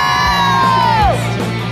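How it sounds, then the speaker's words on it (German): A crowd at the finish of the Urbanathlon race in Hamburg, held in rain and wind, bursts into loud, close cheering and whooping, with one long yell sliding down in pitch. "Also nochmal einen kräftigen Jubel."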